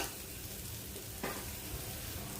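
Sweet potato sabzi stir-fried in a pan for a fasting dish, with a steady close sizzle throughout and a brief scrape or stir partway through.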